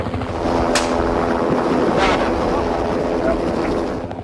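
Helicopter flying overhead while wolves are darted from the air during wildlife fieldwork, a steady rotor drone with wind rush filling the whole stretch, and someone speaking over it.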